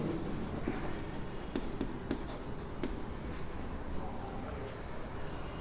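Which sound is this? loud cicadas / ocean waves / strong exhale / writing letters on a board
writing letters on a board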